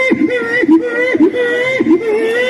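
A human voice imitates a hungry baby boy crying, loud and close, with wavering wailing sobs rising and falling in several bursts, performed at a comedy show at a temple festival.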